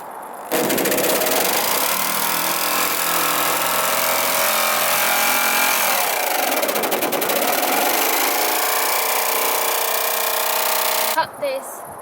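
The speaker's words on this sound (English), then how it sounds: "So here I'm drilling a pilot hole so my jigsaw can fit inside it and I can start cutting out." A power tool cuts through the sheet-metal body of a van during a camper build, a continuous loud buzzing rasp that runs for about ten seconds and then stops abruptly near the end.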